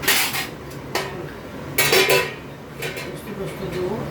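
A metal lid is set on a cooking pot of aloo posto, giving several sharp clinks and clatters of cookware at irregular moments, close and fairly loud.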